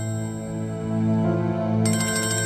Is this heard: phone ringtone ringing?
yes